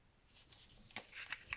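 Paper being folded into an origami figure gives soft, close crinkles and brief crisp rustles that grow denser and sharper toward the end.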